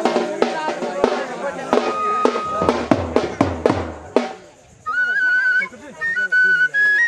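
People whistle at a wedding, sharp high whistles in the second half after a burst of loud percussive music and chatter, with voices throughout.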